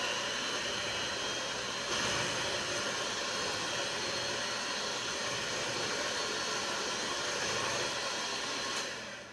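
An electric hand mixer whirs steadily while blending milk and flour into coffee cake batter, a continuous close, loud motor hum that holds level for the whole stretch with no talk.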